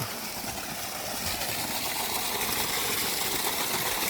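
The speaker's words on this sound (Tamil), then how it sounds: "எஸ்எஸ் சிம்பிளரு அருமையாக பம்ப் ஆகிட்டுருக்கு தண்ணி" A 3000W BLDC motor pump pushes water through 75 mm pipe from a 50-foot depth, a steady, dense rushing gush with a constant motor whine beneath, loud and unbroken throughout with no talking.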